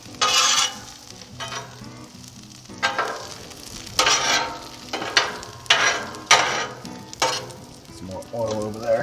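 Asparagus and potatoes sizzle on a Blackstone 28-inch Pro griddle, with bursts of frying crackle rising and falling in waves as food is pushed around on the hot surface, close and fairly loud.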